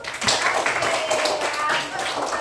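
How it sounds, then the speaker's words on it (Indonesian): Children in a classroom clap together in a quick burst of taps, close and lively, with voices mixed in. "Kasih tepuk tangan dulu"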